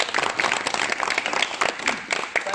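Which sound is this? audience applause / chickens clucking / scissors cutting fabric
audience applause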